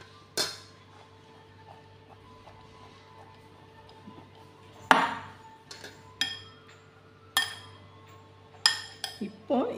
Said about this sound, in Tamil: இது கூடவே நம்ம நல்லா மிக்ஸ் பண்ணி விட்டுருவோம்.